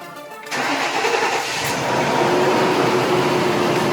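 A 2003 Lincoln Aviator engine, fitted with new coil packs, cranks and catches, then settles into a loud, steady idle that continues close by.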